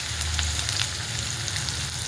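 Finely chopped onion hitting hot oil with bloomed cumin, mustard seeds and curry leaves, giving a steady, close, dense sizzle that continues without pause.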